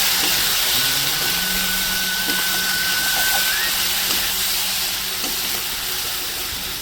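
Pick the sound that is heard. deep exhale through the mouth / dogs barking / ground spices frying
ground spices frying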